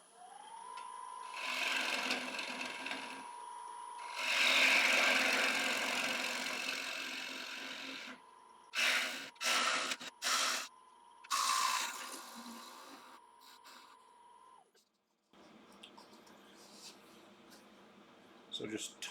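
A woodturning tool cuts into an applewood bowl spinning on a lathe, a close rasping shave in several bursts over the motor's steady hum, with pauses and a quieter stretch near the end.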